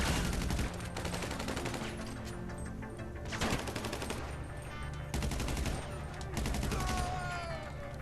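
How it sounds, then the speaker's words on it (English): Rapid gunfire in Grand Theft Auto V Online, dense bursts of automatic shots and fusillades layered over game music and effects, loud and continuous with a player's voice briefly under it. "why am I shooting past that guy?"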